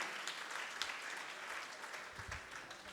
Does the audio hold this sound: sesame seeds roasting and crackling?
no